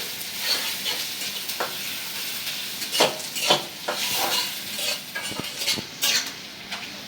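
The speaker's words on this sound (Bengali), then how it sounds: "পেঁয়াজ কাঁচামরিচ তেলের সাথে একটু ভাজা নিছি" Chopped onion and green chilies fry in soybean oil in a kadai, a bright continuous sizzle punctuated by metal spoon scrapes and taps while stirring, close and moderately loud with no talking.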